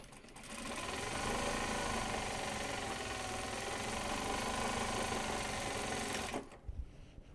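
A sewing machine stitches a Kato project bag in one continuous, close, steady mechanical whir lasting several seconds, then stops abruptly, leaving a few faint handling knocks.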